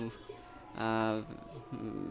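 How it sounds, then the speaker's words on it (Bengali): A Pakistani high-flyer pigeon chick gives a short burst of rapid chirps, close and clear, over steady background noise. "কবুতর এখনই চিউচু করে চিউচু"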